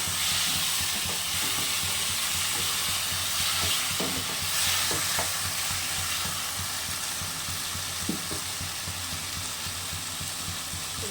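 Taro leaves (kochu shak) and chickpeas stir-fried in a pan, a steady broadband sizzle with scraping stirs running throughout, close and fairly even in level, with no voices.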